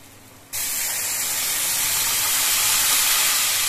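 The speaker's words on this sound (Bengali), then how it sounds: "অল্প করে ঝোল দিচ্ছি।" Broth poured into a pan of fried spices for a Bengali katla kalia fish curry bursts into a loud, steady sizzle and hiss after a brief quiet start, holding strong to the end.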